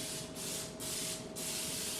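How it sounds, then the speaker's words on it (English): Cooking spray hisses from an aerosol can into a 9x13 baking pan in a steady continuous burst, close and fairly loud, with two short gaps between sprays. "Spray that down."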